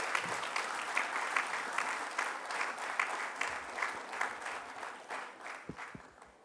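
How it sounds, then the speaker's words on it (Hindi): An audience applauds at a book launch with steady, moderately quiet clapping, tapering in the final seconds into a few sharp isolated claps and knocks. "मुझे लगता है कि तालियां थोड़ी सी और जोरदार होनी चाहिए."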